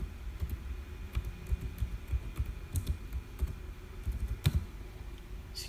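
Typing on a computer keyboard, a steady patter of soft key presses with scattered sharper clicks, close and quiet, without speech.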